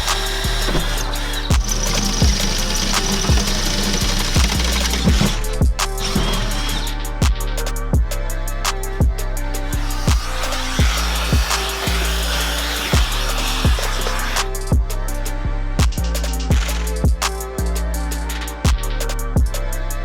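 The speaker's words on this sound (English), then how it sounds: "I'm now going to smash a drill bit through it" A power drill bores through the steel frame rail of a Mazda MX-5 Miata, a steady motor whine with regular sharp clicks and knocks repeating throughout, close and fairly loud.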